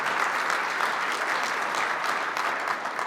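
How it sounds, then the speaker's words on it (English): Moderate audience applause at a Canadian Club speech by Toronto mayor John Tory, a steady patter of many hands clapping at middle distance for a few seconds. "I think that deserves some applause."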